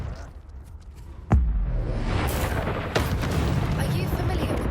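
Confringo blasting spell explosion in Hogwarts Legacy: a sudden loud boom followed by a sustained rumbling roar, a second smaller hit a moment later, with a voice speaking around it.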